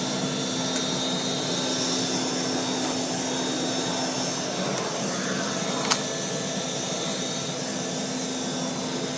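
A 1940s Eureka Roto Matic Model 800 vacuum cleaner with slightly noisy bearings runs continuously with a steady, smooth motor hum and a faint whine, close by and unchanging apart from one brief click.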